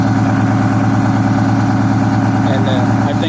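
Engine of a 1963 GM PD4106 bus, rebuilt about 55,000 miles ago, running steadily at idle with a loud, continuous low throbbing drone throughout.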